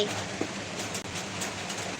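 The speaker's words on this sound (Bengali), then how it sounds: "রোদ আর বৃষ্টি একসাথে হচ্ছে" A steady, even hiss of rain falls continuously while the sun shines, with no voices and only faint soft patters within the wash of noise.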